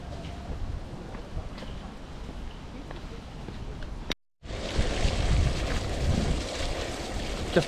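A boat moving on the water in Copenhagen gives a steady low engine rumble with wind and water wash, broken by a brief cut before the noise returns louder and fuller.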